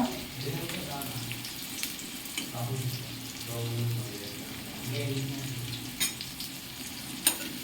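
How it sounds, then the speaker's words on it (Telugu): Onions sizzling in hot oil for a chicken curry, a steady close frying hiss with occasional stirring scrapes and faint background voices. "చూసారా ఎంత వేడెక్కిందంటే, ఉల్లిపాయలు వేసిన వెంటనే గరం ఉంది."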